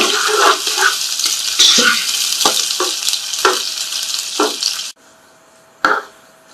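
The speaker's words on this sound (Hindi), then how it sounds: "प्याज डालें। प्याज को हमने ब्राउन करना है, गोल्डन कलर का करना है।" Onions frying in a hot pan for aloo keema: a loud, close sizzle with stirring scrapes, then an abrupt drop to near quiet and one final clatter.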